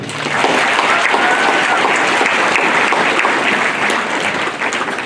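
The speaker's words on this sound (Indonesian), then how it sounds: "Kita beri tepuk tangan." Sustained audience applause at a Catholic high school ceremony for Youth Pledge Day, a dense, steady wash of many hands clapping close by for about five seconds.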